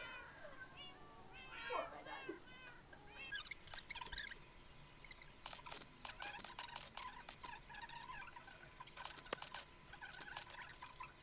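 Minecraft cats meow and squeal in quick high calls at the start, then a dense stretch of clicky, crackling game noise with scattered sharp taps and faint cries runs steadily underneath to the end.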